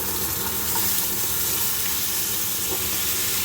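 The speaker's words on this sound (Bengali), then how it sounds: "এবার এখানে আমি দিয়ে দেবো চানাটা, একদম সেদ্ধ করে রাখাই রয়েছে।" Boiled chickpeas tipped into a hot pan with tempering spices, giving off a loud, continuous sizzle and hiss at close range with no talk.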